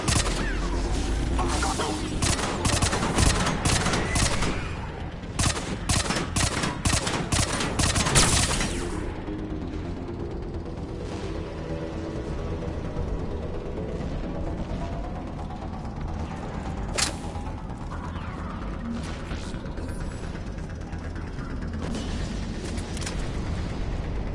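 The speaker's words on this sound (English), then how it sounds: "we're getting a lot of mortar fire" Mortar fire and gunfire in Mass Effect 3: dense bursts of automatic shots and booming blasts for the first several seconds, then a lower rumbling battle ambience with a few scattered shots.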